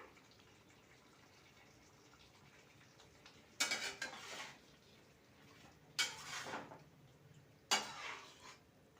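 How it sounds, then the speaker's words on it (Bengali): A utensil scrapes and clatters in a pot of chicken with coriander and spinach over raised heat, in three short bursts separated by quiet gaps. The sound is fairly soft and close. "ওপর নেচ সুন্দর করে নাড়িয়ে চাড়িয়ে নিতে হবে"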